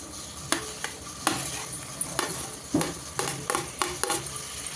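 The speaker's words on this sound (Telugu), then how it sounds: "ఇప్పుడు కట్ చేసి పెట్టిన టమాటాలు వేసేస్తున్నా" Chopped tomatoes go into a pan of Telugu-style egg masala with ginger paste, followed by a sizzle and a run of sharp metal spoon scrapes and clinks against the pan, close and fairly loud with no talking.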